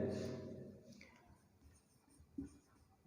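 Marker or chalk writing on a board during a Hindi civics lecture on citizenship. Faint, brief scratches follow a man's speech, then two sharper knocks near the end.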